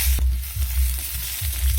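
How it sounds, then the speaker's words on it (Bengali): Hot oil sizzles steadily in a loud, continuous hiss as cut potatoes fry over tempered spices, broken by a few dull low thumps as the potatoes are moved around. "এখন এর মধ্যে কেটে রাখা আলুগুলো দিয়ে ভেজে নেব"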